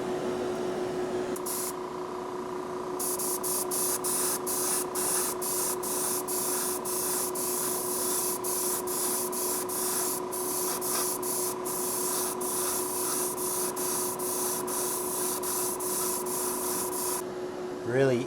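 An airbrush sprays black paint onto a custom Hot Wheels '66 Nova, giving a close, loud, steady hiss broken by rapid pulsing bursts as the trigger is worked, with no one talking.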